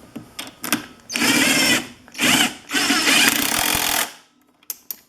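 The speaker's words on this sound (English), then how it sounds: "Once that's in there, just tighten it up." A power tool whirs in several loud bursts, close up, while tightening a bolt on a Ski-Doo G4 850 snowmobile motor mount, with a few clicks and taps before and after.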